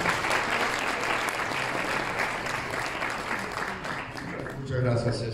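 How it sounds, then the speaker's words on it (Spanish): Sustained applause from a crowd fills the clip, loud and steady throughout, with a brief swell near the end. "Un aplauso para él."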